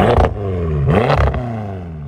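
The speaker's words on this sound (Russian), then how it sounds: "Ну, подожди, выхлоп, послушаю я." A BMW M5 F10 exhaust gives two sharp, loud revs, with pitch sweeping up and falling back between them, then settles into a deep idle rumble, heard close up.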